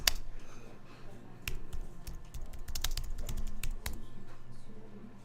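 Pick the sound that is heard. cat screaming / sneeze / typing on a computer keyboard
typing on a computer keyboard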